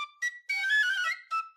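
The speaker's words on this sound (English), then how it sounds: "trusty tin whistle" A tin whistle plays a short run of bright, clear, pure notes in quick phrases with brief gaps between them, close and loud with no other sound.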